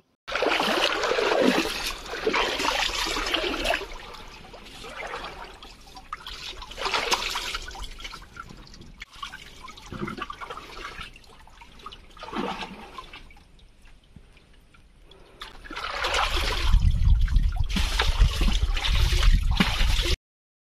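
Water poured and splashed over a mud-caked tractor during washing makes a running, gurgling rush that surges, eases to a trickle in the middle, then swells again louder near the end.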